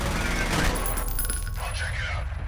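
Dense bursts of gunfire in the video game F.E.A.R. crackle and pop continuously, loud and overlapping, like a sustained exchange of shots.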